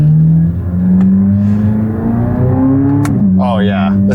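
A new C8 Corvette ZR1 with a dual clutch transmission sends out a loud, close engine note that climbs steadily in pitch, then drops into a burbling overrun as the throttle closes, with someone speaking briefly near the end.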